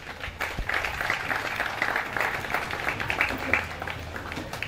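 Parents and guests in an audience applaud warmly at a children's event, a steady wash of clapping with voices mixed in.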